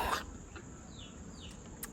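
A single short cough near the start, followed by quiet room noise with a few faint bird chirps in the background.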